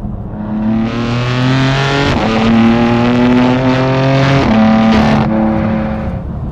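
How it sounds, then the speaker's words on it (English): A BMW F80 M3 with the S55 engine and an AWE track exhaust revs up close and loud, its engine note climbing and dropping in several pulls, with no one talking. "hopefully this gives you a sense on how good this exhaust really sounds."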